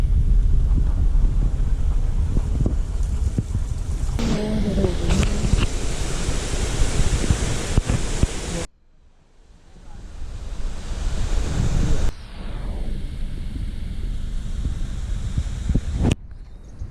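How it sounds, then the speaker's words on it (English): Three Bears Waterfall on Maui pours with a steady, broadband rushing roar that briefly drops away midway before returning at full strength. "This is Three Bears Waterfall."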